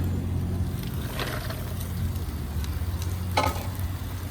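Mussels saute with beer in a hot pan, a steady close sizzle with a few stirring scrapes rising over it.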